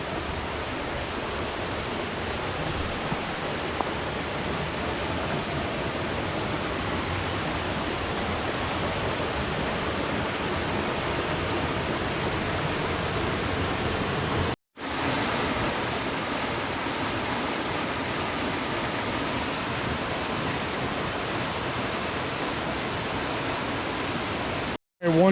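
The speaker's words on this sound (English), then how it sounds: "our first major waterfall" Waterfall on a White Oak Canyon hiking trail, a loud continuous rushing roar of falling water that stays even throughout, with a brief cut near the middle.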